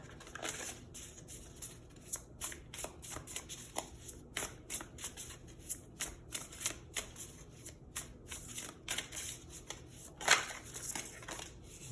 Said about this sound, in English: I'm just pulling an animal oracle card to help me identify who the person is.